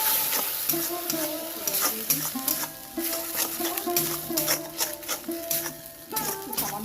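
Spoon stirring red chili sauce and tomato sauce into chicken and cheese momo filling frying in a pan, a steady sizzle under repeated scraping strokes close by, with faint pot clinks.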